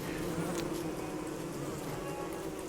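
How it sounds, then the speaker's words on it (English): Bees buzz in a steady, continuous drone in the video game Don't Starve, loud and close with no talking, holding evenly throughout. "No bees, I don't like bees."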